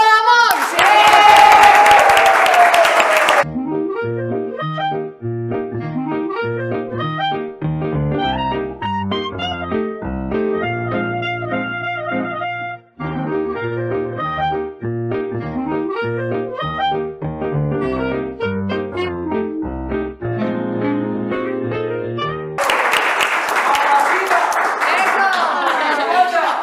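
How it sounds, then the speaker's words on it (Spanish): A talk-show studio audience claps and cheers loudly for guest Claudia Bahamón at the start and again at the end, with a stretch of music between the two bursts. "Un fuerte aplauso a Claudia Badamón"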